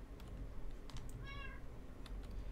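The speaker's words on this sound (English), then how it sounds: "That is the game cat." A cat meows once, rising and falling, inside a video game, heard faintly over a steady low hum with scattered soft clicks of typing nearby.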